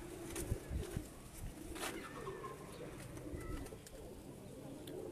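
Soft, steady cooing comes from pigeons kept by a breeder, some of them grey birds, layered over a low hum of background noise with a few sharper knocks, fairly quiet throughout.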